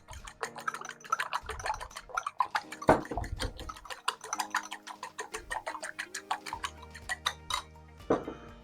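An omelette mixture of eggs, milk, salt and pepper is beaten in a bowl, a quick run of light rhythmic clinks and taps close by, with faint tonal sounds behind it.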